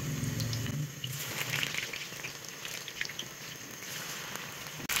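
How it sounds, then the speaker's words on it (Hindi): Chicken necks deep frying in very hot oil, a continuous crackling, bubbling sizzle with fine spitting pops, close and steady throughout. "अब हम इसको इसमें डीप फ्राई करेंगे"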